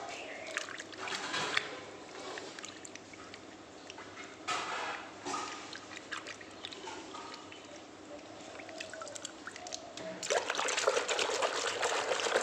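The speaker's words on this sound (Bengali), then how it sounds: "বন্ধুরা এই বালতির জলে আগে সাবানটা গুলে নেবো" Soap and shampoo are stirred into a bucket of water, giving close, soft sloshing and trickling splashes in irregular bursts, louder near the end, with quiet background noise.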